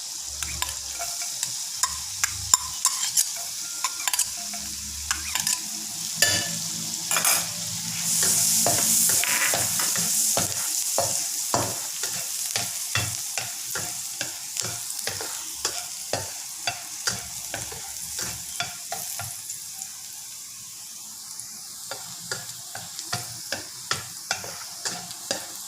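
Garlic sizzles in hot oil in a pan for a stir-fried broccoli dish, with a steady frying hiss under repeated scraping stirs that continue throughout, loud and close with no talking.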